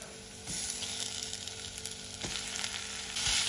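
Minced meat frying with onion in a pan on a gas stove, a continuous crackling sizzle with occasional scrapes of stirring, close and fairly loud, no talking.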